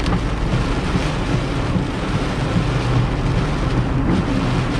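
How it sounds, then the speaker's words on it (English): A continuous dense rumble of an approaching storm fills the space, loud and broadband, with thunder-like roll and possible rain wash blending into a steady roar without distinct claps. "The storm is really here, or it's close by."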